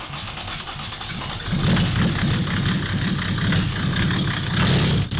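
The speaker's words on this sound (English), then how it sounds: "The engine is running, you see." A 505 diesel engine, a high-output build, runs steadily just after starting, a loud, continuous rumbling idle with slight surges of throttle and no voices over it.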